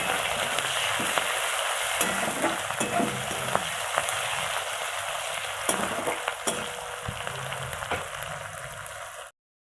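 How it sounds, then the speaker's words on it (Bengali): Onions frying in a pan after whole spices for a cauliflower and prawn curry, a constant close sizzle broken by repeated stirring scrapes, with no talking until the sound cuts off abruptly. "পেঁয়াজটাকেও ভালো করে ভেজে নেব"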